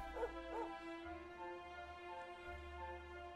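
Dog in the Dragon Quest XI video game gives two quick yipping barks near the start, then soft whimpering over a steady game music drone.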